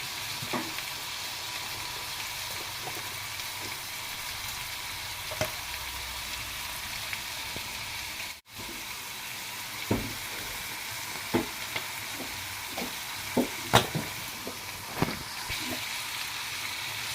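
Pigeon seasoned with cinnamon sizzles and fries in a pan, a soft steady crackle with scattered sharper pops and spatters over a quiet kitchen background, with no talking.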